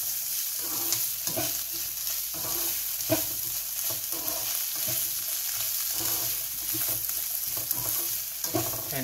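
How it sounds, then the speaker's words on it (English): Garlic paste sizzles in a frying pan for butter chicken while it is stirred, a steady close hiss with soft scraping from the spoon and no talking. "We're gonna go ahead and give it a good mix."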